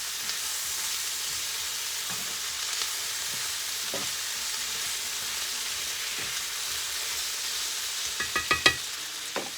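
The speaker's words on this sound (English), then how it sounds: "And potatoes. Stir it around." Potatoes frying in a pan give a soft, continuous sizzle while a utensil stirs them, with faint scrapes and a few sharper clicks near the end; no one speaks.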